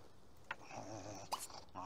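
A dog in The Sims 2: Apartment Life giving low, soft growls and brief whimpering yips, faint and close, with no speech.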